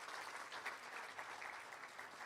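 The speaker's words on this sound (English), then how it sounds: "I want us to give them a big round of applause." Steady applause from an audience at a university colloquium honouring a professor, a dense, even patter of clapping hands throughout with no voices.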